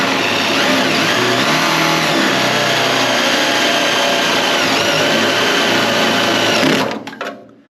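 A power drill bores a hole through the floor of a 1978 K5 Blazer, a steady, loud, close whine that runs unbroken for almost seven seconds and then stops abruptly.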